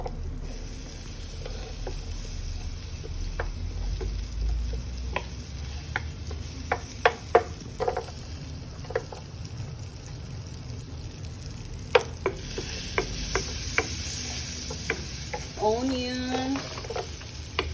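Butter sizzling in a pan as chicken bites cook, a soft continuous frying hiss with scattered sharp ticks and clicks, close by, and a brief voice near the end.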